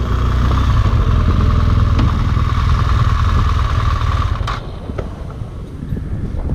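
A motorcycle engine runs steadily and loudly while the bike is ridden slowly, with a continuous low rumble and some wind noise that eases slightly toward the end.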